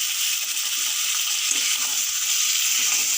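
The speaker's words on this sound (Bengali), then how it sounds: "ভালো করে নেড়ে নেব" Chicken kosha sizzling in a pan as the yogurt, turmeric, chili and spice paste mixture is stirred, giving a steady, bright frying hiss with soft scraping movements underneath.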